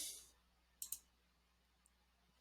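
Computer mouse clicking, heard as a few faint, sharp clicks spaced apart: a quick double click near the start and a couple of isolated clicks later, in an otherwise quiet room.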